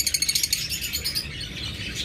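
Pet lovebirds and budgerigars give a quick burst of sharp, high chirps that then thins into softer, scattered twittering, fairly close and with no talking.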